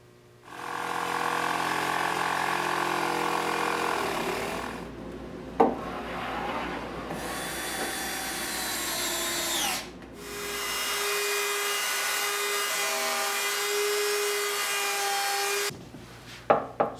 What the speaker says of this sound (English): I cut these notches for the clamps to come on so I get a nice purchase with the clamps